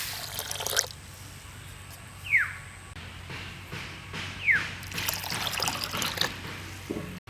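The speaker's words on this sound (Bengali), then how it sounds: "আর পর্যাপ্ত পরিমাণের পানি দিয়ে ডালটাকে ভিজিয়ে রাখছি" Water trickles and pours into a bowl of fried moong dal to soak it, a steady close liquid sound with two brief rising splashes over a low background hum.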